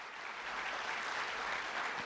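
Steady applause rises from a full room at an awards gathering, a continuous even wash of many hands clapping, heard from some distance and fairly quiet.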